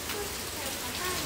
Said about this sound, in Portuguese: Não, porque tá chovendo.